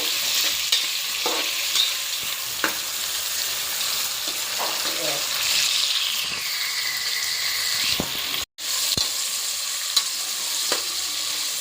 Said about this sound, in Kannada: ಇವಾಗ ಈರುಳ್ಳಿ ಸ್ವಲ್ಪ ಫ್ರೈ ಮಾಡ್ಕೊಬೇಕು.